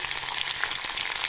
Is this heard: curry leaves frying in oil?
yes